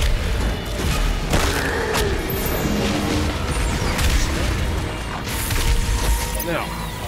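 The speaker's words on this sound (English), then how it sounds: "See why it's worth using a machine gun." Machine gun fire in the shooter Doom, a dense, loud and continuous clatter of rapid shots mixed with booms and mechanical clanks, with a voice talking over it.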